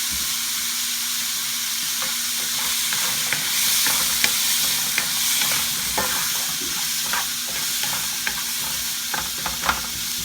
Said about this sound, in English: we're gonna saute those just until the onions are translucent